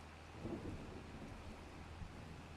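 Rain falls with low rumbling thunder in Farming Simulator 25, a faint, steady wash of downpour under a deep, distant roll.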